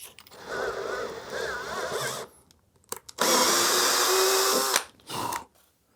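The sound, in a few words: drilling a hole slightly bigger before tapping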